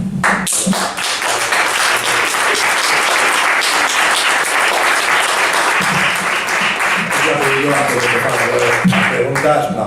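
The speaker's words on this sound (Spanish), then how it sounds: "un aplauso porque se lo ha currado" Audience applause after a talk on self-employment in Calahorra, La Rioja, a loud close clapping that carries on steadily, with voices starting to speak beneath it near the end.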